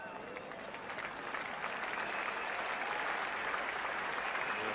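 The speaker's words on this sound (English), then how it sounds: "The applause for Ian Botham." A cricket crowd at a 1980 England versus West Indies Test applauds Ian Botham's wicket, a continuous, distant roll of clapping that swells slightly over time, with commentary voices faintly beneath.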